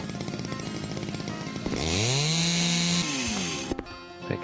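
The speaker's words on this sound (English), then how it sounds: "let's chainsaw this guy to about" Chainsaw cutting in the House Builder video game, a loud continuous engine buzz that rises in pitch as it bites, holds steady for about a second, then drops off, with no talk.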